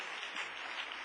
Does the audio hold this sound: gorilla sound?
no